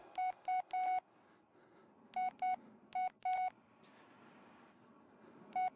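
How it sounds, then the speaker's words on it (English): Phone message beeps in the Blair Witch video game: clusters of short, clean electronic tones in quick series, some paired and some longer, separated by quiet pauses over a faint background. "Another phone message."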